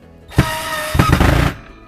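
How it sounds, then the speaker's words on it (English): A power driver runs a screw home into a wooden leg piece of a homemade spinning ninja sparring dummy, giving two loud close bursts of whirring, rattling motor drive with a brief pause between them. "Then take the screw and run it home."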